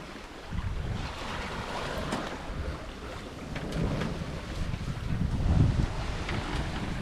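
A sailboat makes about six knots in a 9–10 knot wind off the Italian coast near Giannutri, with steady water rushing along the hull and wind buffeting, moderate and continuous, no talking.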